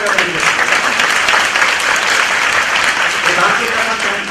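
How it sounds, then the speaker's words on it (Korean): Church congregation applauding during a Korean worship service after a sermon, a loud sustained wash of many hands clapping at an even level throughout. "하나님 영광의 박수 드리겠습니다."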